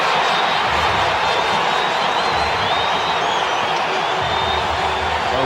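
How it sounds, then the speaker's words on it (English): A large cricket stadium crowd roars and cheers after a batsman pulls a bouncer for four, a dense sustained wall of noise with whistles on top. "Doesn't the crowd enjoy that?"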